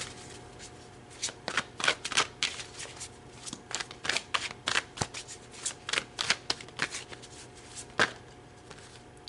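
Tarot cards are shuffled by hand, a run of crisp riffling bursts and snaps in irregular rhythm, close and fairly quiet, with no voice over them.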